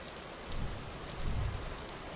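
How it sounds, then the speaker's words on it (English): Steady rain falling in the Vintage Story video game, a dense continuous patter with slight swells, alone without talk. "it might be raining, but at the very least,"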